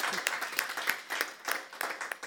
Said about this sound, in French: On applaudit encore pour la sœur Hope.